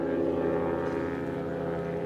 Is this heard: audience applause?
no